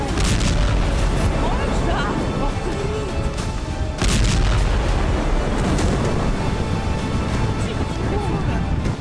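Missile strike explosions hitting the Russian Black Sea Fleet in Crimea: a dense, loud, continuous roar of blasts and rumbling, with a sharp surge near the middle.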